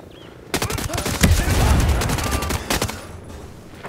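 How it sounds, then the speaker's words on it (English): A close, loud burst of assault rifle fire in Ghost Recon Breakpoint rattles off rapid shots for about two seconds, then a few final cracks trail off. "sneak up behind him and blow him away with my assault rifle"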